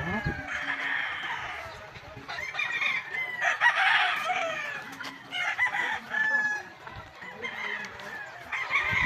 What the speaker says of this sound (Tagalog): O diba, ang daming manok.